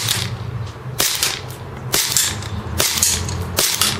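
Cybergun KJW Sig Sauer P226 airsoft pistol fired at a target 50 feet away, five sharp, evenly spaced snapping shots about a second apart, close and loud with no talking.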